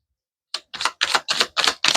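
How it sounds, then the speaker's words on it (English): Close, quick papery rustling in six short bursts of tarot cards being shuffled, with no voices. "One more shuffle."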